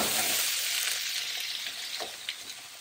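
Pan-fried thyme potatoes crackle and sizzle over high heat, a steady dense hiss of hot fat holding level from start to end with small spits and pops, close by and free of any talk.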